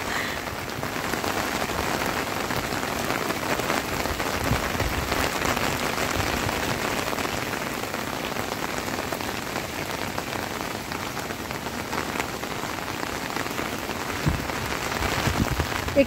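Steady, heavy rain pours down in Al Ain, UAE, a dense continuous hiss of drops hitting the ground and surfaces at close range for the whole stretch, with no voices.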